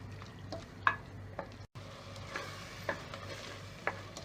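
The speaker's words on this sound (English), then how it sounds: "Fry till the oil separates." Spiced masala for a beef pepper dish fries in oil while being stirred, giving a soft, steady sizzle with a few sharp scraping clicks from the spoon against the pan. It stays fairly quiet throughout, with no voices.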